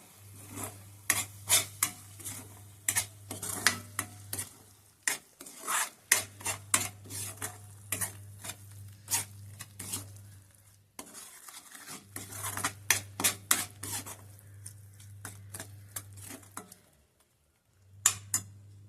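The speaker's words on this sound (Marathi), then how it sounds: "तर आता आपण सगळ्यांना ढवळून घेऊया." Spoon stirring egg curry masala in a cooking pot, a steady run of close scraping and rasping strokes in bursts, with a low hum underneath and short pauses between rounds.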